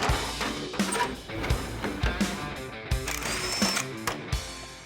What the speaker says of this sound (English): We'll start by taking out a few bolts that hold in our seat.